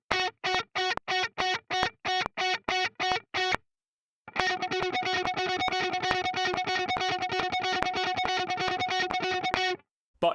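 Distorted electric guitar plays a run of short, separate picked notes, then after a brief pause a fast continuous stream of notes with a regular accent pattern, loud and close.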